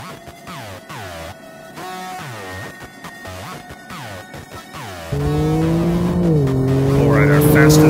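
A Chevrolet Colorado ZR2 pickup accelerates hard on quarter-mile drag runs, its engine revving up in repeated rising sweeps through the gears, then a louder, sustained pull with steady climbing drone as the truck charges down the strip.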